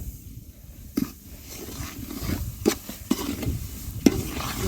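Pre-roasted semolina (rava) frying in oil for kesari, a soft continuous crackle with a few sharp spoon scrapes and taps against the pan, close and fairly quiet, with no voices.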